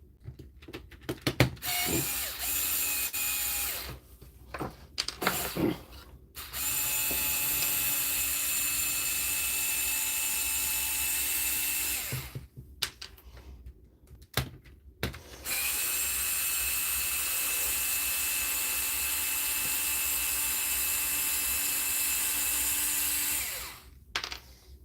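Repaired Dewalt SDS hammer drill running in long sustained bursts with a loud, even high whine, separated by short pauses and clicks from handling.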